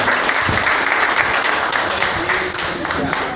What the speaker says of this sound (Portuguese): Vamos receber ela com uma salva de palmas.